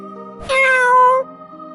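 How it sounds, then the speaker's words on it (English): A cat meows once in the Re:Zero video game, a clear, drawn-out, tonal cry lasting under a second, close and loud over a low steady game background hum. "Oh, it's just a cat."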